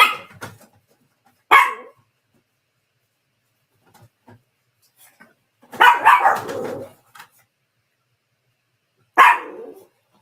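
Several short, sharp bursts of dog barking ring out loud and close, scattered across the stretch with quiet gaps between them and a longer cluster of barks in the middle.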